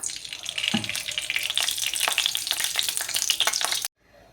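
Mustard oil heats in a wok with a busy crackling sizzle and occasional clinks, then cuts off abruptly into near silence.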